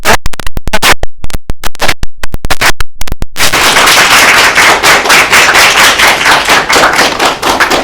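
A school awards ceremony crowd breaks into dense, loud applause, with sharp separate claps at first that merge into a sustained wash of clapping.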